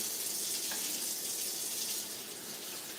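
Kitchen tap water runs in a steady, hissing stream while cherry tomatoes are rinsed, a constant close wash with no talk.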